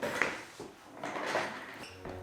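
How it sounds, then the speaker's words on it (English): An office chair creaks and squeaks in a few short bursts as it shifts, close and fairly loud, with no talking over it. "This chair is so squeaky."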